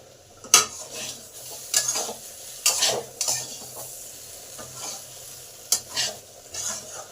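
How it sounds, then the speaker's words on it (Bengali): Spice masala for a cauliflower-stem shukto is sautéed in a pan, with soft sizzling under repeated sharp scrapes and stirs of a utensil against the metal at an uneven pace, close by. "মশলাটা আমার ভালোভাবে কষা হয়ে গেছে, কাঁচা গন্ধটাও আর নাই।"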